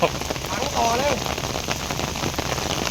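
Steady rain patters on a surface as a constant hiss, with a brief faint vocal sound early on.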